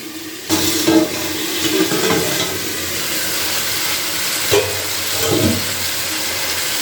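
Water boiling with spinach in a pan as the lid comes off, a close, continuous bubbling hiss with a soft clank near the start and faint knocks later.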